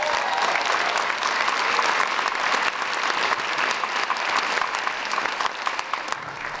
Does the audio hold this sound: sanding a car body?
no